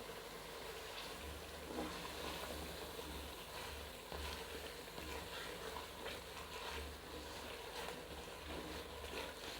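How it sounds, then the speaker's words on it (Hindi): Masala spices with Knorr cubes sizzle and fry in a pan for lobia beans, making a steady, faint crackling hiss with soft stirring scrapes and no talk. "मसाले को हम भून लेते हैं"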